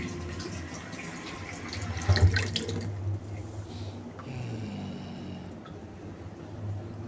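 Water runs steadily from a tap into a kitchen sink, a constant close rush with a brief louder splash partway through and no one speaking.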